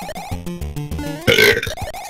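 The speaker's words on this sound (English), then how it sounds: "I don't know why I suddenly had that huge burp," A man lets out a sudden, loud burp partway through, a short throaty blast over quieter background game music.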